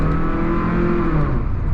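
A Honda Logo car engine revs and accelerates loudly up close, a deep rising drone with strong low rumble throughout.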